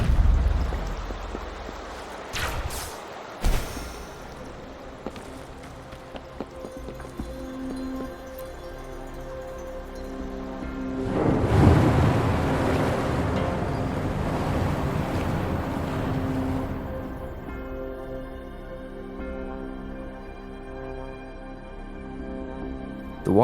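Water level dropping in the Wuthering Waves video game, a swelling rush of water that surges midway and ebbs, layered over sustained ambient tones and a few sharp hits early on.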